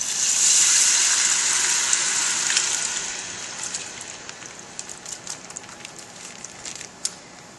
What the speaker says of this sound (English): I'm going to pour in my crushed tomatoes.